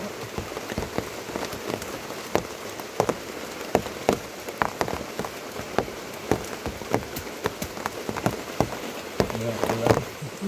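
Rain falling outdoors beneath a large tree, a constant patter with many sharp drips striking nearby surfaces at an uneven rhythm.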